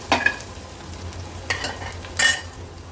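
A spoon stirs turmeric into hot oil tempering in a pan for an Agri-Koli vegetarian dish, with a soft continuous sizzle and a few brief scraping clinks of metal on the pan.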